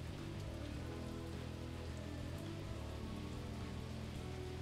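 Rain falling in the card shop simulator game Kardboard Kings: a soft, even patter of raindrops on surfaces, continuous and faint, with no talking.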